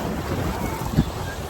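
Sea wind on the causeway to Haji Ali Dargah in Mumbai buffets the microphone in a steady, close rush, with the faint wash of waves beneath it and a soft thump near the end.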